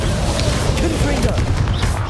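Fiery Confringo spell blasts in Hogwarts Legacy combat make a dense, loud wash of crackling bursts and booms, continuous throughout, with voices speaking over the din.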